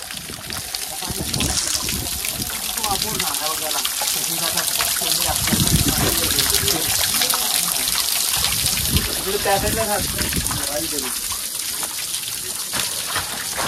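Cold natural water trickles and splashes steadily throughout at Korigad Fort, with people talking over it nearby.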